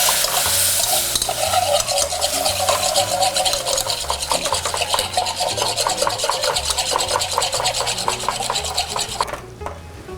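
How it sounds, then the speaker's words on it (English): Stock is whisked into a roux in a pan for Thanksgiving turkey gravy, a fast, continuous rhythmic scraping and swishing that stays loud and close before stopping abruptly near the end. "I'm gonna add my stock and whisk."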